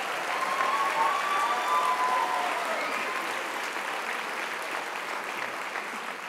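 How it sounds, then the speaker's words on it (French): Audience applause at the AgroParisTech 2024 graduation ceremony at the Folies, a dense, sustained clapping from a large crowd in a hall, steady and full for about six seconds with a slight easing toward the end, no talk over it. "Alors, je voudrais également qu'on applaudisse vos parents"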